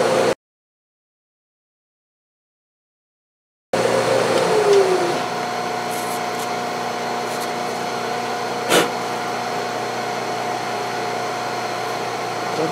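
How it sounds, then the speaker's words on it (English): A drill runs continuously, boring a hole in metal for a homemade lathe steady rest, a steady machine hum after a brief silent gap, with one sharp click partway through. "we're getting ready to start drilling a hole."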